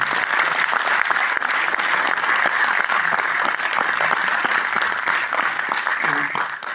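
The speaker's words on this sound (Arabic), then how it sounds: "باش يعطيونا شي تصفيقه على هذا المناضل" A crowd at a speech event in Berkane applauds warmly, a dense, sustained roar of clapping that holds steady for several seconds, with faint voices underneath near the end.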